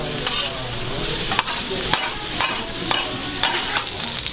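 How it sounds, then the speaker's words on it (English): Pork belly and onions sizzle in oil on a hot stone, a steady close frying hiss broken by sharp clinks and scrapes of stirring, with no talk. "he mixed it with the onions, and it is still sizzling in its oil"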